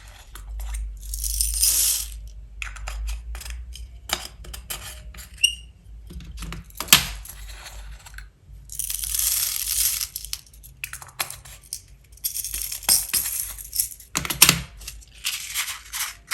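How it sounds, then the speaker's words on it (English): Small clear crystal beads poured and rattling into a double glass card, with bursts of tiny clicking and hissing trickles separated by quieter handling, close and fairly soft. "For this one I'm going to put some clear crystal beads again."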